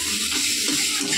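Food frying in a pan, a steady close hiss and sizzle with a faint stirring scrape near the middle.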